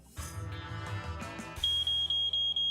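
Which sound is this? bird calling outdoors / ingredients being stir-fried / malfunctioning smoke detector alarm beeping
malfunctioning smoke detector alarm beeping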